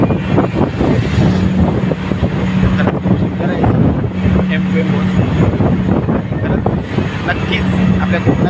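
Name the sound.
M2M ferry boat travelling at sea, wind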